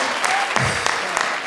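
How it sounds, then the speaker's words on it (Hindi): Applause from a studio audience at a comedy show fills the moment with a dense, continuous wash of clapping, steady and fairly loud throughout. "जोरदार तालियों से स्वागत कीजिए इनका"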